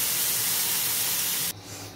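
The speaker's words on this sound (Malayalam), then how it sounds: "ഇനി ഇതിലേക്ക് നമുക്ക് അരപ്പൊഴിച്ച് കൊടുത്ത്" Coconut paste ground with coriander, chilli and turmeric powder is poured into a hot pan of sautéed tomatoes for an eggplant curry, giving a loud steady sizzling hiss that drops abruptly to a quieter simmer partway through.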